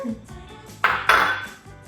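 Cooked taco meat is dumped from a pan onto pizza dough, giving two short, close metallic clanks of utensil against cookware over a soft background.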